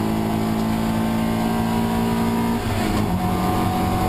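A Toyota MR2 race car at Silverstone drives down the Wellington Straight, its engine holding a steady loud drone with a brief shift in pitch partway through.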